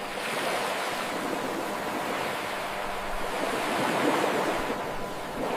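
Ocean surf and tidewater wash through the entrance of a mantis shrimp's burrow in a battle with army ants, a continuous broad rushing roar with slow swells and no voices.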